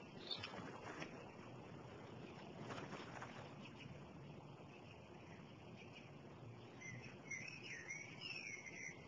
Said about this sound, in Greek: Ένα σπουργίτη είναι